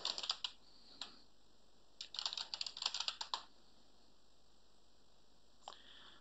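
Password typed on a computer keyboard: a quick burst of key taps, a single tap, then a longer run of rapid clicks and one final key press, close and faint in a quiet room.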